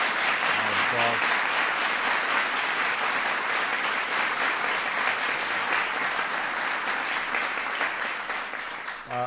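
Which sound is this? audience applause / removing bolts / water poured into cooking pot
audience applause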